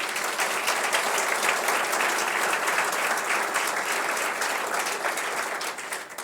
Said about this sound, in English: So give yourselves a round of applause again,